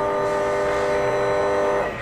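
Three Tsudakoma RNCB-402 CNC rotary tables from 1989 run together in an industrial setting, giving a steady, continuous mechanical hum with layered sustained tones, loud and unbroken for the full stretch with no talking.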